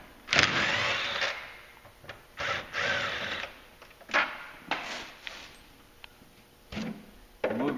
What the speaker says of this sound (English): It's a 30 Torx, you just back it out.